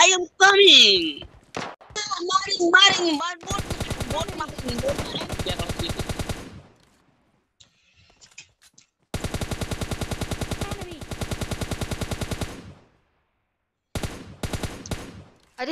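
Long bursts of rapid automatic gunfire in PUBG Mobile Lite rattle in sustained volleys, separated by short pauses, loud and close, with some speech and sounds at the start.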